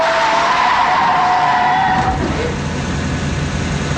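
A taxi skids to a stop in a 1997 thriller, tires squealing loudly for about two seconds before the screech breaks off into rumbling engine and road noise, with a voice faintly audible underneath.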